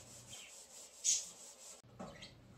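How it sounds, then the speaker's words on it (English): Steady scratchy sanding of drywall joint compound on a wall, close by, a continuous abrasive rub with a brief louder stroke in the middle and a short pause near the end. "and the final sanding"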